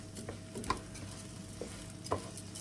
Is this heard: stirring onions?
yes